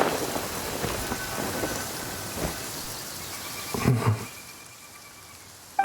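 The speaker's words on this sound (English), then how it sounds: "When did it start to rain?" Steady rainfall patters in the Genshin Impact game world, a dense hiss of drops with a low rumble of distant thunder swelling near the end before the rain thins.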